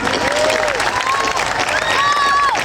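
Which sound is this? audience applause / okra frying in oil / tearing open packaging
audience applause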